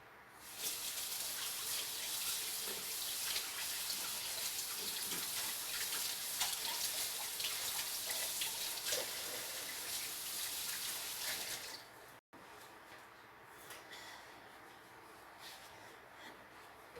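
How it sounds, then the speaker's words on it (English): Tap water runs steadily from a faucet into a sink during handwashing in a home kitchen, a loud continuous gush that stops abruptly near the end, leaving quieter room sound. "let me go wash my hands real quick"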